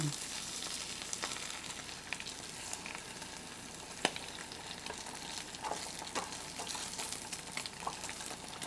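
Sicilian stuffed eggs fry and brown in a pan, a steady sizzle and crackle with scattered pops throughout, close and fairly quiet.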